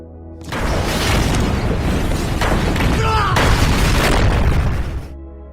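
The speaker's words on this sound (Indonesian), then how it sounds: "lalu sesaat kemudian bom itu meledak" A heavy boom of a bomb explosion in a film erupts and roars for several seconds, a dense rumbling blast that swells in and then cuts away.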